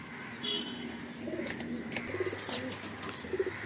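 A loft pigeon cooing up close in soft repeated low throaty phrases, with faint background bird sounds and no clear talk.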